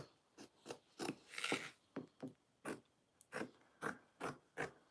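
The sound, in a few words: scissors cutting fabric for sewing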